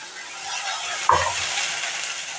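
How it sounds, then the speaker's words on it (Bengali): Bottle gourd stalks coated in sesame-poppy paste fry on a low flame, giving a steady soft sizzle with one brief scrape of stirring midway. "এটা এখন লো ফ্লেম করে একটু ভাজা ভাজা করবে"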